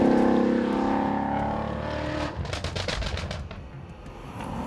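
A Mustang CS850GT with 859 hp and a manual gearbox drives on a road, a loud engine roar easing off into crackling, popping exhaust bursts on the overrun before picking up again, with no talking.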